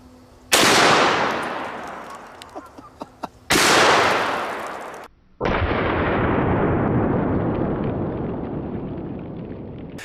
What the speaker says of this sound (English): This is a Magnum Research BFR with a 20-inch barrel, just absolutely ridiculous